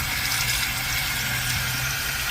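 Water runs steadily from a tap to rinse a sink after cleaning greasy dishes with a homemade degreasing mix, a constant close splashing rush with no voices.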